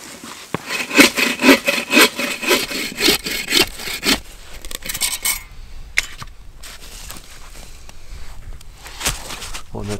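Wood being cut with a hand saw outdoors in cold weather, a steady run of close, rhythmic rasping strokes that gives way to slower, scattered scrapes and knocks, with no talking.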